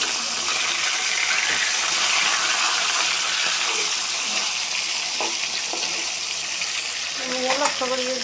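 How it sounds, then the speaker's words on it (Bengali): Fish frying in hot oil in a pan, a steady dense sizzle throughout with a few soft clinks of utensils near the end, close and fairly loud. "এখান দিয়ে আবার মাছ ভাজিগুলোটা উল্টিয়ে দিব"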